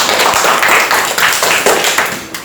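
Students in a classroom clap in a loose, uneven burst of hand claps lasting a couple of seconds, fairly loud and close, with no talking over it.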